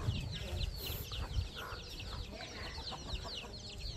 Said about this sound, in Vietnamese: Gà trắng, gà đen, gà vàng gì cũng có đầy đủ các kiểu gà điểu.